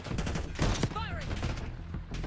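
Video game gunfire crackles in a dense burst, strongest near the middle, mixed with other game noise and a voice speaking briefly over it.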